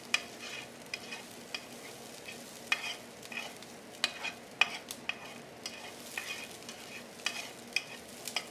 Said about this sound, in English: Alright, almost done cooking the onions.